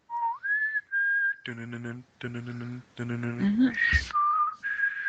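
Someone whistles a melody in clear sustained notes, interrupted by voiced humming-like phrases in between; close and fairly loud.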